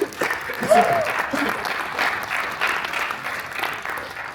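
Audience at a veterans resource fair evening event claps steadily for several seconds, a dense patter of many hands holding fairly even, with a voice briefly audible near the start.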